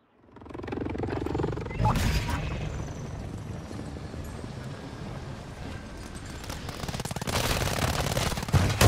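Rapid automatic gunfire in a Call of Duty battle-royale match, bursts of shots crackling over game ambience with excited voices talking throughout, the firing growing louder and denser toward the end.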